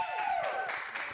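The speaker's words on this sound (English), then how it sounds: "So let's have a round of applause to my whole team." Applause for a show's team at the start of a reaction stream, a brief burst of clapping from a small crowd that stays steady and fairly close for about a second.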